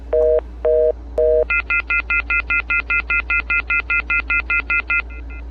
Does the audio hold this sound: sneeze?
no